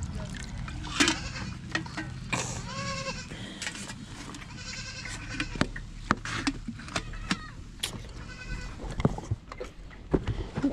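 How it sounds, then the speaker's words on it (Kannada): Goats in a desert herd, one of them suffering from a cold, bleat repeatedly at close range with wavering cries over a busy background of shuffling and faint voices. "ನೋಡಿ ಈ ಮೇಕೆಗೆ ನೆಗಡಿ ಆಗ್ಬಿಟ್ಟಿದೆ"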